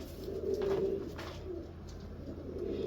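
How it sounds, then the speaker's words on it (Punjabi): A golden pigeon coos nearby, a soft, low, repeated throaty call against quiet background noise. "ਅਗਲਾ ਜਨਾਬ ਆ ਗਿਆ ਗੋਲਡਨ ਕਬੂਤਰ"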